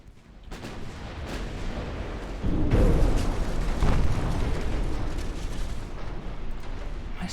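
Heavy naval gunfire from warships in the game Ultimate Admiral Dreadnoughts, a dense rumbling barrage of booming blasts that swells after a quiet start and keeps rolling loudly to the end, no talk.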